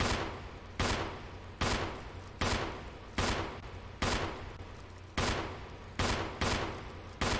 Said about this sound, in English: Can I shoot it from here?